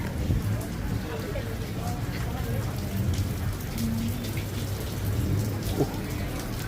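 Steady rain pours down in Bangkok in a continuous dense hiss, with heavier patter close by and no pauses.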